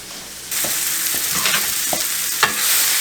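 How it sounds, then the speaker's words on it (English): Rustic beef stew being stirred in a pot, a bright hiss rising abruptly then holding steady, broken by several scraping spoon strokes and a sharp knock near the end, close and loud with no voices. "we're going to stir this around"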